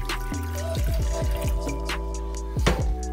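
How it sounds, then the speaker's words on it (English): Water being poured into a pot for grits, a close splashing stream with bubbly drips and gurgles for a few seconds, alone without voices. "That was about a cup and a half of water that we'll add."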